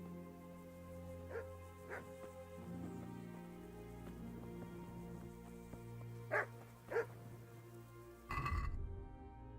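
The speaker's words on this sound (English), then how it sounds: "Stop barking at me!" A dog in Kingdom Come: Deliverance barks a few times at moderate distance, in short pairs, over a soft ambient background with light patter.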